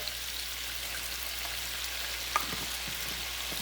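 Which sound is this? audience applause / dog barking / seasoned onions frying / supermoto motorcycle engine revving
seasoned onions frying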